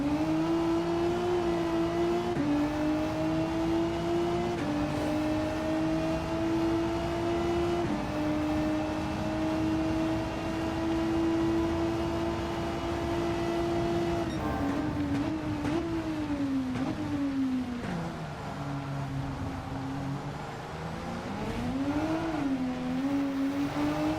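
Race car engines in Gran Turismo 7 during a Manufacturers Cup online race on intermediate tyres: a steady, loud engine drone holding pitch through long pulls, then dipping and rising through downshifts and braking, with no talking.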